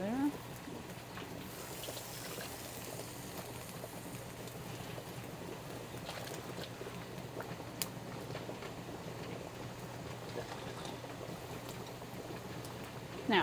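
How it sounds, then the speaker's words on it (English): Water in a canning pot comes toward a rolling boil, a low, steady bubbling churn at modest level with occasional faint clinks and sounds of movement. "once our water has hit a rolling boil, we will start our timer for 10 minutes"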